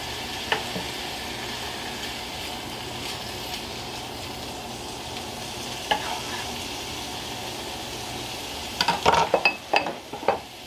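Food browns in a frying pan with a steady low sizzle running throughout, broken by a few light clinks of a utensil against the pan near the start, middle and end.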